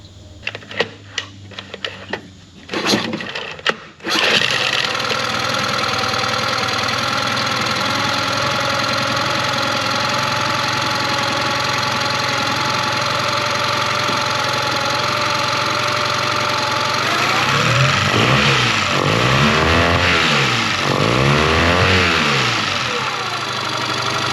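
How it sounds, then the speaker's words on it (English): A few clattering pulls and sputters, then a Yamaha 15 outboard motor, serviced after five years stored in a barn, catches and runs steadily at close range, its pitch rising and falling with throttle changes. "So we're just going to fire this thing up and see what it does."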